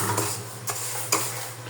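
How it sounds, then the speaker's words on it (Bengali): Mung dal fries in a pan, a steady sizzle broken by three sharp metallic scrapes and clinks of a stirring spoon against the pan, up close and with no speech. "এই যে আমরা ডাল ভাজছি"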